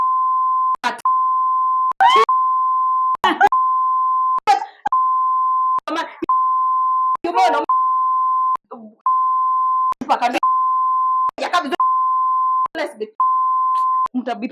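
Steady censor tone bleeping over a woman's speech, the long beep broken repeatedly by short gaps where fragments of talking come through, loud and close throughout.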